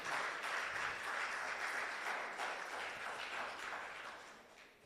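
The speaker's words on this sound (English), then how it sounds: "Can we have a round of applause for our panel?" Audience applause for a panel at a labour ministry roadshow event, a steady wash of clapping from a room of people lasting about five seconds, moderately distant and slowly tapering.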